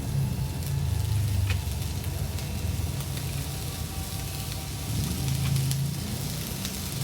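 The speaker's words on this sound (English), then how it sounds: "I'm gonna add the sausage." Vegan sausage pieces sizzle and crackle in a frying pan, a dense close hiss that swells and eases as they settle, without voices.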